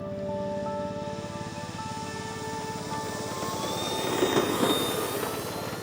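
A 3D-printed ATR42/72 model RC plane takes off, its electric motors whining steadily and then rising in pitch as it climbs, with a louder swell of whirring near the end and no talking.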